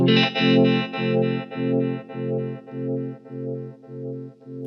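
A sustained electric guitar chord through a Spaceman Effects Delta II tremolo pedal pulses in a regular tremolo, swelling and dipping about twice per second as it slowly fades.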